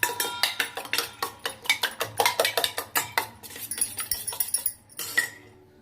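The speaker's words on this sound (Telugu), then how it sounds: "నేనైతే 3 ఎగ్స్ కొట్టిన" A fork beats three eggs in a bowl in a home kitchen, giving quick, bright rhythmic clinks against the dish that come in a steady run, then loosen into a few scattered taps.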